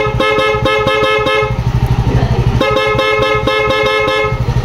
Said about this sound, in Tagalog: parang hindi ho ganun kalakas yung busina